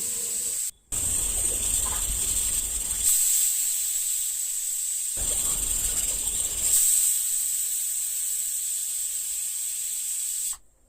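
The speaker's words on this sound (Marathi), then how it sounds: "आता कुकरच्या 3 शिट्या काढून घ्यायच्या म्हणजे आपला मसूर भात तयार होईल." A pressure cooker of masoor rice lets off loud steady whistles of hissing steam, each long blast running several seconds with brief breaks between bursts, close and dominant.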